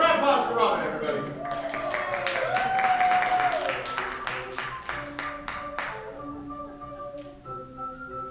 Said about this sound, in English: Round of applause for Robin